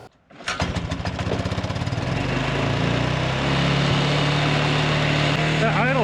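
An Arctic Cat 300 4x4 ATV engine catches after a pull start and races at an excessively high idle, a loud, close, steady rapid putter with a faint voice briefly under it near the end.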